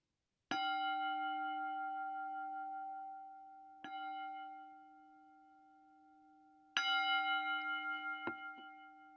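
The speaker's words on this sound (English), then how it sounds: "And so with the sound of the bell," Three strikes of a resonant bell, each ringing out with a long sustained tone that slowly fades, the last strike louder and wavering.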